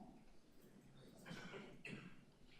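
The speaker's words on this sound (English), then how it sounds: "We can hear you cough." Two quiet, muffled coughs at a committee meeting come a moment apart over a faint, hissy online mic line.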